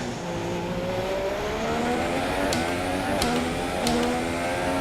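A Formula 1 race car engine in a racing video game holds a steady, high whine with rising harmonics, loud and continuous, punctuated by a few brief clicks.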